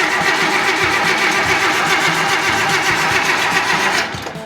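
A rare Canadian engine in a 1929 Dodge cranks over with a steady, rhythmic chugging close by for about four seconds, then drops off abruptly.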